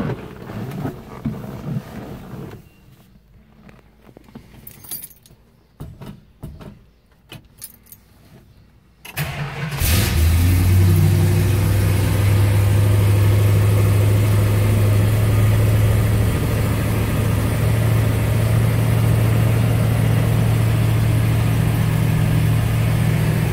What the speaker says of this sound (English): I'll fire it up and carefully get off this hoist.